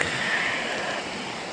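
A waterfall in an Alberta canyon gives off a steady, full rushing roar of falling water, close and unbroken for a moment.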